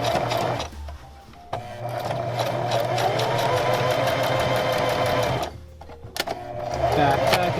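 A sewing machine runs fast, stitching the hem of raw selvage denim jeans with a dense, rapid mechanical whir. It stops briefly, then starts again and keeps a steady pace.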